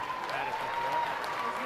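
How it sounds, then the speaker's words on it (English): Crowd applause for a senior swine showman at a livestock show, brief steady clapping from a modest audience, fairly faint and distant, with a voice partly audible over it. "Let's go ahead and give our senior showman a big round of applause."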